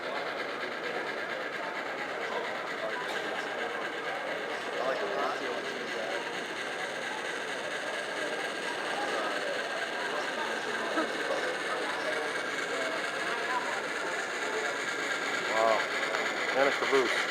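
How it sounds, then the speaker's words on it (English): A model train with a single engine runs at a train show, giving a steady faint rolling rumble and clatter with crowd noise in the background throughout. "It's a big train here that's pulling."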